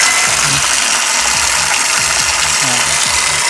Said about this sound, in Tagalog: Water pump tsaka yung pressure switch.